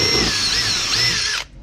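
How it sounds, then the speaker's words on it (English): A power drill whines steadily at close range for over a second, drilling into a wooden bung on a wooden boat, then cuts off abruptly into quiet. "drill a little hole right in dead center till you hit the screw"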